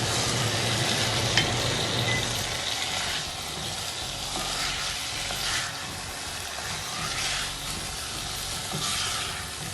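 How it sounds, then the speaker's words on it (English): Potato and chana frying in curry in a pan, a steady close sizzle with occasional stirring scrapes that carries on continuously without talk. "So you're kind of frying up the potato and chana"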